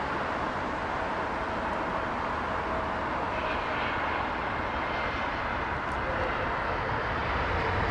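Airliner climbing out of Heathrow Airport, London, passing straight overhead as a steady, broad engine roar that holds loud and close throughout with no voices.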